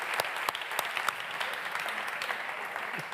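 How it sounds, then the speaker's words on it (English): An audience applauds award winners at a European social economy awards gala, with steady clapping throughout, a dense mix of many hands from a mid-sized crowd and no clear voices. "Round of applause for all of our winners."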